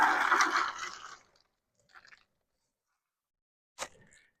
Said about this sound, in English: I just dump these down in the water.